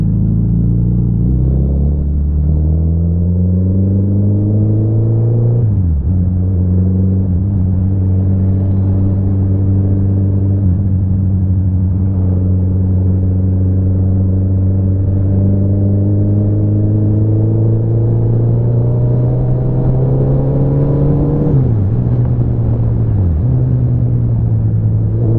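A Suzuki Hayabusa motorcycle fitted with a race exhaust is ridden, its loud, close engine drone rising steadily through gears with brief dips at shifts, continuous and without voices.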